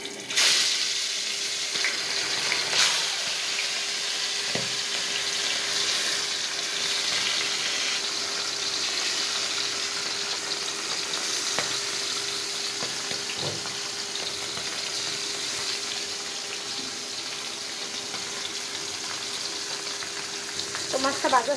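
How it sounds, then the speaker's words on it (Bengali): Tilapia fish fry one by one in hot oil, giving a steady, dense sizzle and crackle that runs unbroken and fairly close, with no voices over it. "মাছগুলো ওখানে এক এক করে ভেজে নেব।"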